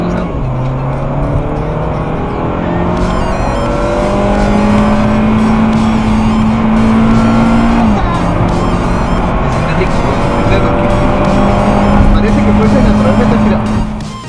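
Turbocharged SEAT car engine revving hard, a loud sustained rising and falling drone with rapid crackle and pops on the overrun, close by and continuous throughout, amid a noisy club gathering.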